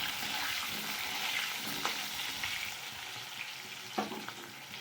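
Diced potatoes sizzling steadily in hot oil in a pan after whole spices were tempered, with a continuous loud fry broken by a couple of sharp scrapes as they are stirred.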